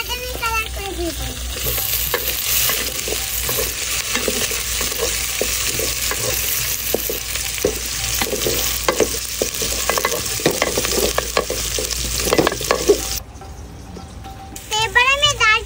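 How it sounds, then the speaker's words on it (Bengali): Chopped onions and green chillies fry for vegetable khichuri in a loud, constant sizzle broken by repeated stirring scrapes. Voices, including a child's, come in briefly, and the sizzle drops abruptly near the end. "এবার আমি পেঁয়াজ কুচি দিয়ে দেব, মরিচ দিয়ে দিলাম, সুন্দর মতন বাদামি কালার করে দিয়ে দেব"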